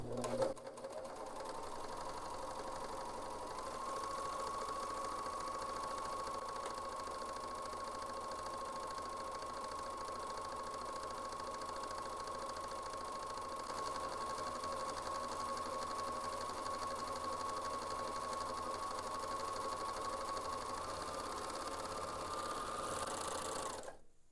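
A serger runs steadily, sewing a rolled hem over a fishing line core, a fast even mechanical hum close up that holds for over twenty seconds before stopping.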